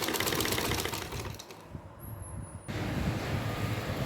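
Sewing machine stitching a folded satin strip for a small Laddu Gopal dress, a dense, close, steady mechanical whir that dips briefly and then resumes loudly.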